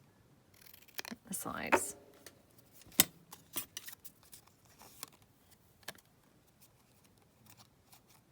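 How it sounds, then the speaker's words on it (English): Scissors snipping through a fabric topper for a junk journal, with a few close, crisp cuts and rustles of material amid quiet handling sounds, while someone speaks softly in a low voice. "I just need to cut it down slightly more"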